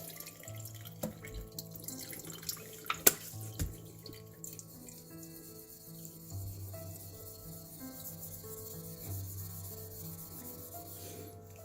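A honing and sharpening stone being flattened under running tap water gives a gritty, rasping scrape over a steady trickle and splash, with a few sharp knocks near the start before settling into continuous wet rubbing.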